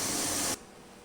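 Steady, loud hiss of steam from a pot steaming prawn spring rolls, lasting about half a second before dropping abruptly to a faint, quieter hiss.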